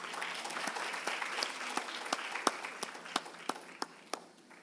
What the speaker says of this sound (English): Let's have a huge round of applause for Dr.